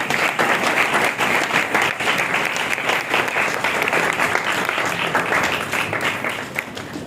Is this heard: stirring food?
no